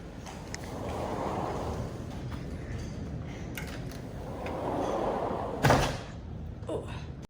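Sliding doors at a Jamaican holiday stay being pulled open, a long rolling rumble followed by a sharp knock as a door hits its stop, close by.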